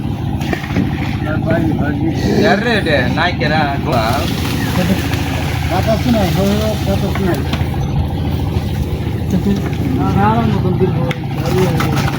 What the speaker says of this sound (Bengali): দেখেন বলতে বলতে চলে এসেছে নৌকাটি, ইঞ্জিন চালিত নৌকা।